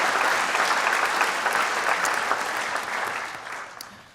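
Audience applause at the BAMPA Hall of Fame 2019 ceremony, a sustained, dense round of clapping from a hall crowd that holds steady and then gradually tapers toward the end.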